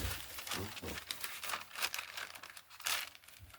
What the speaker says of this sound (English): Grab my parchment paper.